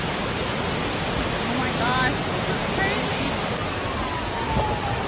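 Floodwater rushing down a submerged street in a coastal Oregon town, a steady broadband roar of moving water close by, continuous and loud with no clear breaks.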